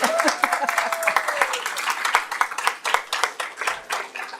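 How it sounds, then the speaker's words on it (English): A school board public meeting audience applauds, bright close clapping from many hands in a dense, uneven patter, with a few faint voices mixed in. "Now, I know you're dying to applaud."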